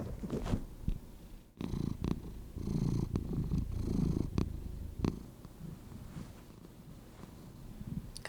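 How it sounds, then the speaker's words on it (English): A cat purring close by, a soft continuous rumble with rhythmic breathing pulses and a few small clicks, fairly quiet throughout. "Gotta love those cat noises."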